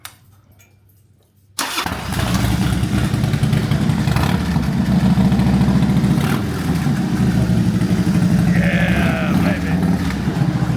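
A carbureted Harley-Davidson Dyna motorcycle with its fishtail exhaust removed fires up after a moment of near silence, then idles loud and raw with a steady, throbbing, uneven rumble close by.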